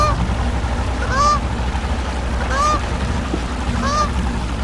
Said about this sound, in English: That daggone goose mess with you,